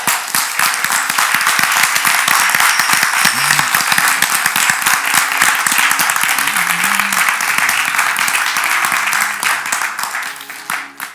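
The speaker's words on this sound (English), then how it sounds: "clap your hands for Jesus." A church congregation claps hands steadily through the whole stretch, dense and loud, with faint low musical tones underneath.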